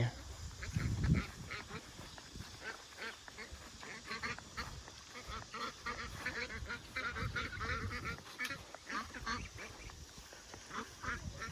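Ducks quack repeatedly in a steady, overlapping chorus by the water, with honking calls rising and falling at moderate distance throughout.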